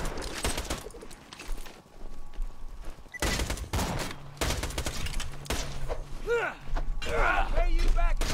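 Rapid gunfire from Borderlands 2 combat, dense bursts of shots with sharp cracks and mechanical clatter, loud and close, with chirpy electronic effects toward the end and a busy game background.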